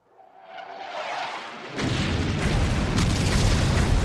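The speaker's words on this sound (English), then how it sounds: "Bombs." Bombs detonate in a Vietnam War jungle video game, a rising rumble swelling into a heavy, sustained blast that roars on loudly with several sharper bursts layered through it.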